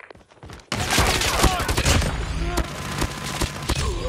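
Sentry gun firing in Call of Duty Mobile, a dense barrage of loud gunfire that begins abruptly after a short quiet moment, with sharp repeated bangs and in-game voice callouts mixed in.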